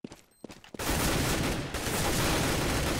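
Rapid gunfire in Counter-Strike on the community map de_apex, starting with a few sharp isolated shots and then bursting into a loud, continuous spray of shots lasting several seconds.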